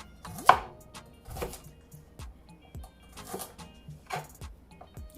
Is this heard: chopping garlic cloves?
yes